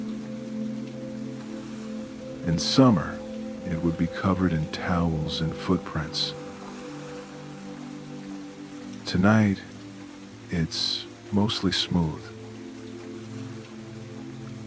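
Steady rain patters continuously on a winter beach beside a closed boardwalk while a calm voice speaks over it in short phrases.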